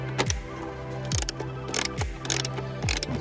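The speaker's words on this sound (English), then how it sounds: "just tighten them a little more by hand with a socket" A socket ratchet hand-tightens bolts while installing a retractable hose reel, giving four short bursts of rapid clicking with quick turning strokes between them, close and fairly loud.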